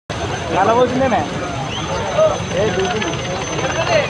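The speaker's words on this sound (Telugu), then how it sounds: "నర్మాల వాగులో చిక్కుకున్న వారిని రక్షించడానికి చేరుకున్న ఆర్మీ హెలికాప్టర్స్" An army helicopter's steady rotor and engine drone fills the clip during a flood rescue of farmers stranded in a stream, with voices talking over it throughout.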